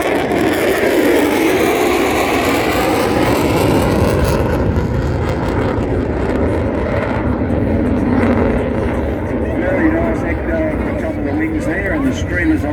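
A RAAF F-35A Lightning II jet passing at an airshow gives a loud continuous roar that thins and fades in its upper range midway, with a voice talking over it.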